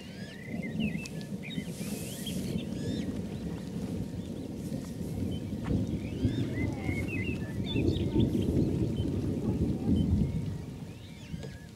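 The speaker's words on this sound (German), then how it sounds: "Während es das Gewitter kommt über den See." A thunderstorm rolls in over a lake, with low rumbling thunder and steady rain filling the air, while scattered bird chirps sound faintly above the continuous wash.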